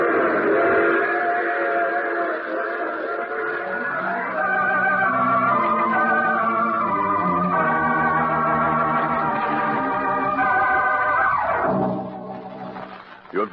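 Train sound effect from an old radio drama, a loud sustained whistle-like chord that shifts pitch and holds for several seconds before falling away, with no talk over it.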